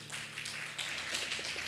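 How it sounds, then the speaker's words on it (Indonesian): A congregation at an Indonesian Sunday evening church service breaks into brief applause, a short burst of dense, overlapping claps at moderate distance. "Tepuk tangan."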